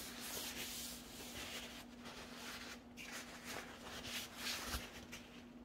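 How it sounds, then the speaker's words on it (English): A clean cloth rubs off excess finish from a pickaroon made from an old axe head, giving a soft, steady scrubbing with faint rhythmic strokes, close and quiet. "Then just take a clean one. Wipe off the excess."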